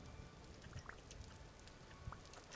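Steady rain falling in the Vintage Story video game, a constant patter with a few louder drips standing out now and then.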